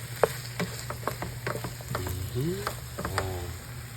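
Potatoes with egg frying and sizzling in a pan while being stirred, a steady sizzle with repeated clicks and scrapes of a utensil throughout, close and fairly quiet.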